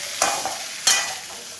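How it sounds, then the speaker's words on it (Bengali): Ginger paste stir-fried in a pan with a little water, a continuous bright sizzle with two quick scraping stirs, close up and with no voices. "তো আমি আদা বাটা দিয়ে ভালো করে একটু জল দিয়ে কষিয়ে নেব।"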